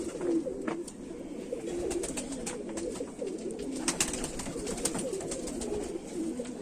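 Golden Kamagar pigeons coo continuously in low rolling murmurs close by, with faint clicks and rustling over the steady cooing.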